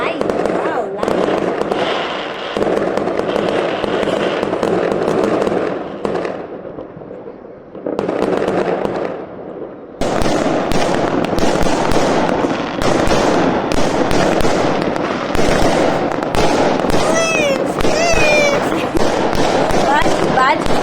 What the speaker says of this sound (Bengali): ভয় পাই তো বাজি দেখে